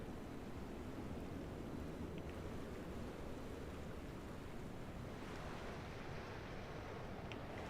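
Steady ocean surf rolls on a Corfu shoreline in Microsoft Flight Simulator, a constant broadband wash of breaking waves with a faint wind hiss, heard alone with no voices.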